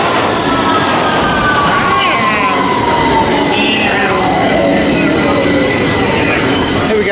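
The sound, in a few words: tube train arriving at underground station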